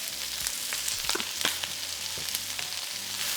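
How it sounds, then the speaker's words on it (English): Bell peppers and onion frying in a pan with garlic salt for pepper steak, a steady close sizzle with scattered crackles and a few soft stirring scrapes throughout. "here we're going to get ready to cook our bell peppers along with the onion"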